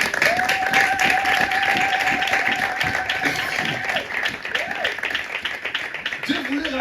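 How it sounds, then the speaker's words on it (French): Sunday church congregation applauding during a sermon, a steady wash of clapping from a crowd of worshippers, joined by a sustained sung or shouted voice and other voices over the top. "Acclamons encore le Seigneur."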